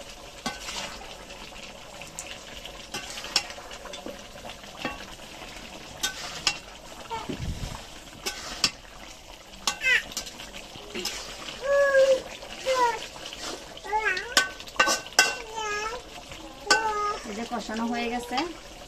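Curry being sautéed and stirred in a pan, with scraping, sizzling and clinking bursts that come and go over a steady background, while a person talks at times during the stirring.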